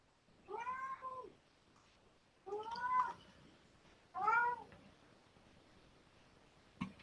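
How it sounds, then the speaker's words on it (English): A hungry cat meows three times at even intervals, each a drawn-out, tonal call, close by in an otherwise quiet room. "I just got a hungry cat."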